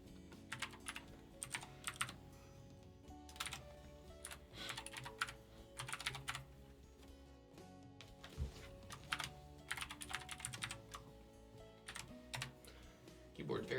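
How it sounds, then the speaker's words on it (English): A clacky computer keyboard is typed on in close bursts of rapid clicking keystrokes, with pauses between runs, while people talk quietly in the background. "Keyboard's very clacky."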